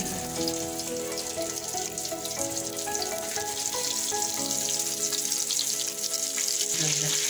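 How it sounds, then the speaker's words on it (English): Potato-coated chicken cutlets fry in oil in a pan, a loud, continuous close sizzle and crackle with music playing underneath throughout. "I've put some oil on the pan. It's I'm going to fry my cutlets"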